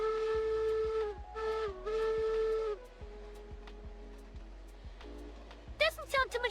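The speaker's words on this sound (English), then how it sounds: "How does the whistle sound?" Steam locomotive whistle in a train video game, sounding as several long sustained tones with short breaks, then a rapid burst of quick toots near the end, heard under regular clanking beats of the moving engine.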